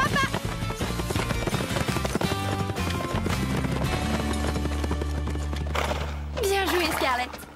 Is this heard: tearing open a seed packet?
no